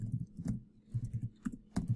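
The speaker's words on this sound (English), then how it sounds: "but I'll just type it in here." Someone types a web domain name on a computer keyboard, several close, soft key clicks in uneven bursts, alone without talk.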